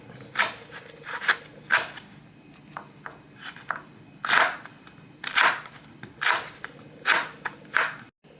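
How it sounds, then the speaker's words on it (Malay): A knife chops fresh lemongrass stalks for a spiced fried chicken spice paste: about a dozen crisp, irregular chopping knocks, close and fairly loud, with short pauses between bursts. "Serai ni potong."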